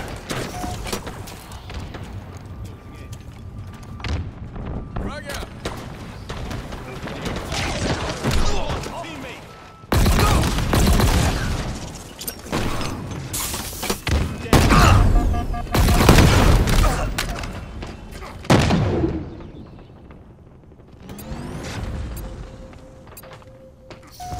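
Homing missiles burst in rapid booming blasts during Halo Infinite multiplayer combat, loud thumps and crashes clustering in bursts amid gunfire and game noise, with voices talking over parts of it.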